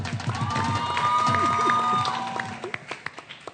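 Studio audience on a Pakistani cricket talk show bursts into applause and cheering, a dense crowd roar over clapping that fades into scattered claps, with a voice briefly audible.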